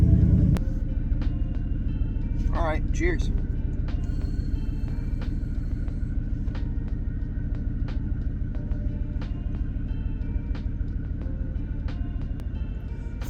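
A truck engine runs steadily after starting, a continuous low rumble close by throughout, with a brief voice near the start.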